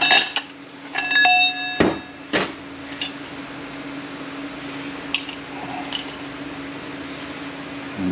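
Small metal bearing parts from a Kia A6LF2 automatic transmission clink during disassembly, several sharp ringing taps and clatters close by early on, then quieter scattered knocks over a steady low hum.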